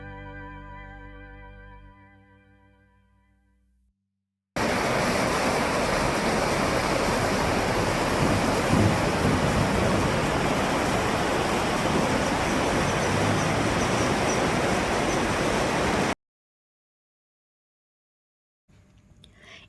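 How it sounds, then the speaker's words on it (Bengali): The Rangeet river flows beneath a bridge at Pul Bazar near Darjeeling, a steady broad rushing roar that lasts about eleven seconds, preceded by fading music. "এই ব্রিজের নিচ থেকে বয়ে চলেছে রঙ্গিত নদী।"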